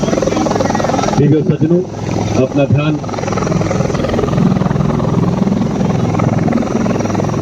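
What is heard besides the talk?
helicopter flying over parade ground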